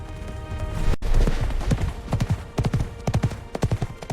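Horses' hooves clip-clop in a quick, uneven gallop rhythm, loud and close, with a thud near the start and clustered hoofbeats building through the rest.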